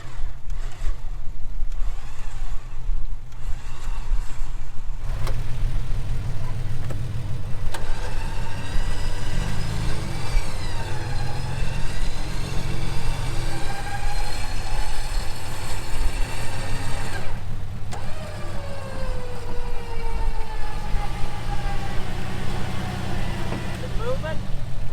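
A truck engine runs steadily as the vehicle rolls forward near a cliff edge, a loud close drone with shifting revs while people talk over it throughout.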